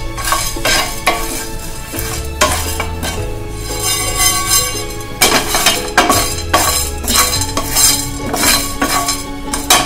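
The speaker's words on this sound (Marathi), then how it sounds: "हे सगळे मसाले आता आपण या पॅनवर अगदी लो फ्लेमवर थोडेसे भाजून घेणार आहोत।" Whole spices, including dry ginger, are dry-roasted and stirred in a pan over a low flame for Indori poha, giving a steady loud scraping and rattling with clinks of the spoon against the metal, no voices.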